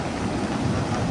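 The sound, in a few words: rain falling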